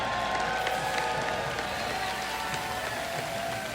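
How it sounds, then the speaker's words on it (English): A live esports crowd at the IEM San Jose League of Legends final applauds and cheers the champion team Origin, a steady dense wash of clapping and crowd noise heard from within the arena. "please, one more time, put your hands together for our champions"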